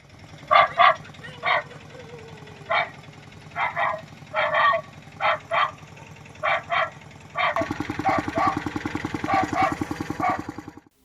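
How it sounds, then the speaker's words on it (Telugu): Repeated recorded dog barks in irregular bursts from a siren loudspeaker on an auto-rickshaw, slightly tinny, then the engine's steady rattling chug joins under the later barks. "కుక్కల వాయిస్తో ఓ సైరన్ను తయారు చేయించి"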